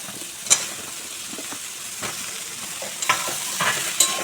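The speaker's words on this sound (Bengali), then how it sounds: "এবার আমি দিয়ে দিচ্ছি কেটে রাখা ঝিঙে" Chopped ridge gourd goes into frying spices and is stirred, a constant close sizzle punctuated by scattered scraping and clinking of the spatula against the pan.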